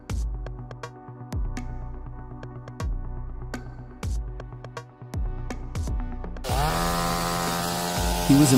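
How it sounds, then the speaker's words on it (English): Steel chainsaw cutting through a large oak log, with repeated loud revving bursts that surge and drop in a steady rhythm, ending in a sustained high whine at full throttle. "He was impressed to see the steel chainsaw easily handle a large oak log."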